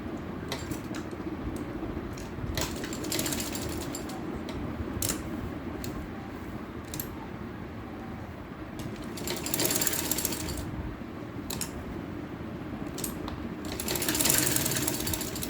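Sewing machine stitching the folded corner of an open shirt slit, running in repeated fast rattling bursts with brief pauses, close and fairly loud over steady background noise.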